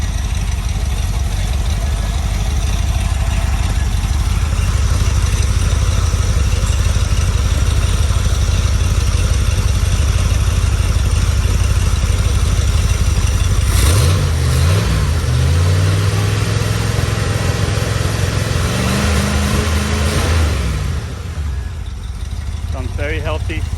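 A carbureted 4.0 Rover V8 runs on an engine stand, a steady loud idle with a low rumbling drone that holds throughout, with a few brief revs or pitch shifts near the end.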